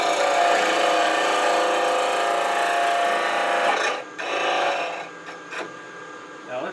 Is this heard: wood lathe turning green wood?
yes